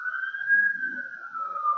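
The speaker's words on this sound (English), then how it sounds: "Is that an ambulance?" An ambulance siren sounds outside, a single faint, drawn-out tone that holds steady and slowly sags in pitch, distant and alone.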